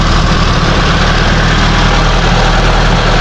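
Mitsubishi Lancer with a 4G15 engine idling at a raised idle, a loud, steady low rumble with an even mechanical hum and no change in pace, close up.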